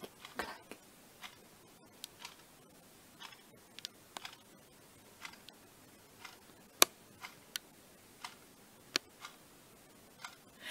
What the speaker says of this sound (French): on entend toujours sa putain d'horloge